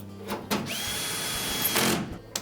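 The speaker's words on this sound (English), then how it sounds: "We can then secure that front panel with two screws on this side." A power driver whirs steadily for about a second and a half, driving a screw into the front panel of a Whirlpool washer during drain pump and motor repair, with short clicks before and after.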